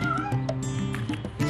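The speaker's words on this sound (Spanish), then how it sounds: "Doña Gata Vieja trinchó por la oreja al niño Ratico maullándole hola" Cartoon cat meowing in several quick, close, loud calls over a music bed, with no talk.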